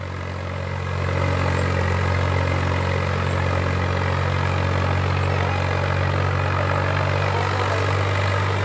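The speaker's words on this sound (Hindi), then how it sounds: "ट्रैक्टर की आवाज हम सुने तो बहुत जबरदस्त आवाज है भाइयों" A Swaraj 744 FE tractor engine, hitched to a 14-disc harrow, runs at a steady, loud drone with a deep low rumble and no pauses for the whole stretch.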